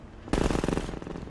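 Rapid automatic gunfire bursts out in the Half-Life 2 video game, a loud close volley of dense, rattling shots sustained for about a second.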